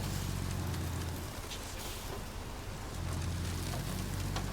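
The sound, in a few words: rain in the video game RoadCraft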